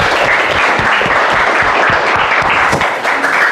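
Classroom applause as students clap together, a dense, steady burst that fills the room for a few seconds with no talk over it.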